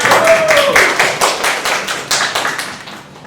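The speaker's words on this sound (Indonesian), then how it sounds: "Oke, tepuk tangan." A classroom gives a group a round of applause: loud, close, rhythmic clapping in steady beats that gradually fades over about three seconds.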